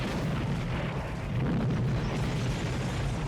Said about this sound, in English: The explosion destroys everything.